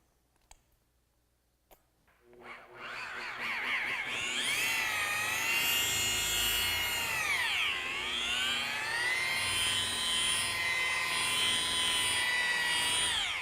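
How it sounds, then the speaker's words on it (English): A machine polisher with a white pad works 3M rubbing compound into car paint, spinning up from near-silence after a couple of soft taps into a loud, steady high-pitched whine whose pitch dips and recovers as the load changes. "Let's go to work and polish this up."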